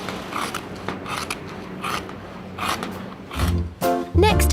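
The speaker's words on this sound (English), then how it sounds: "Listen to the sound of the scissors." Scissors snip through stiff PVC in repeated rhythmic rasping strokes, close up, with a louder creak and thump near the end.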